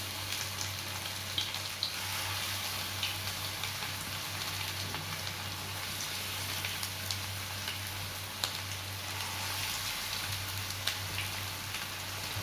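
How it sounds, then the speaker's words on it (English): Hot oil sizzles and crackles steadily as chicken pakora pieces deep fry over a medium flame, with a constant hissing bubbling and a low hum underneath. "deep fry them until they turn into golden red color"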